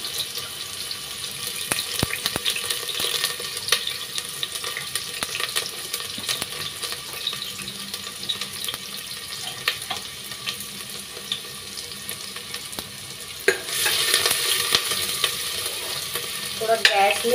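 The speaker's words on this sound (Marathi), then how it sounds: "त्यात मी कांदा टाकलाय" Chopped onion tossed into hot oil for a Maharashtrian tempering, frying and being stirred in a pan: a steady hiss of sizzling with scraping stir strokes throughout, growing louder and brighter near the end.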